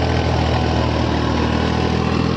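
Tractor engine running steadily with a rotavator attached and tilling soil in a field, a loud continuous drone with no pauses or speech.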